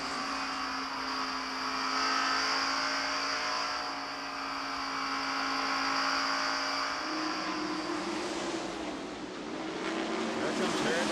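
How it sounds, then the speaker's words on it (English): NASCAR stock cars race at Darlington Raceway in the 1990 Southern 500, including a green Oldsmobile; a loud, continuous engine roar from the passing pack fills the air, shifting slightly in pitch as the cars go by. "So Harry Gatt's car coming into the picture back there, the green Oldsmobile."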